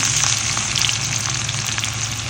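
Ginger garlic paste fries in hot oil for a chicken fry, giving a steady, close hiss with a faint low hum underneath and no talking.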